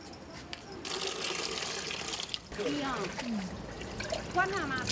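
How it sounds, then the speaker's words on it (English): Tap water runs and splashes steadily as cans and cups are washed at a home recycling point, with trickling and dribbling throughout and someone talking over the flow. "She washes cans and cups."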